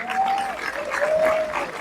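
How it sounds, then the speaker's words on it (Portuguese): A crowd applauds Governor Jerônimo at a political event in Bahia, steady mid-level clapping from many people with a faint sustained tone running beneath it. "queria pedir uma salva de palmas ao governador Jerônimo"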